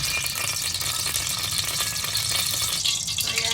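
Sunflower cooking oil heats in a pan, giving off a steady, close, dense sizzle and crackle that holds at an even level throughout.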